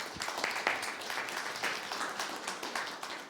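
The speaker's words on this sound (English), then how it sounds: "give Tiffany a big round of applause" An audience applauds at a live body language show, a moderate wash of clapping that stays fairly even across a few seconds and fades slightly at the end.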